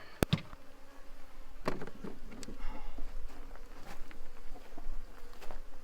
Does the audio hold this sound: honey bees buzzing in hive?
yes